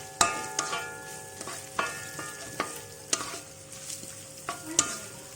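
Garlic frying in hot oil for a chicken dish with soy sauce and lime, a steady sizzle under repeated sharp scraping clicks of a spatula stirring in the pan, close and fairly quiet, with no talk.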